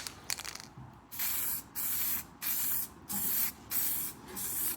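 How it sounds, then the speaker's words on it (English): Black paint sprayed onto a Lexus SC300 car fender in a series of about six hissing bursts, each roughly half a second long with short gaps between, close and fairly even. "I'm gonna go ahead and shoot it with the first light coat of black"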